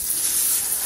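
Steady, close hissing sizzle of French toast frying in a hot pan, bright and continuous with no talking.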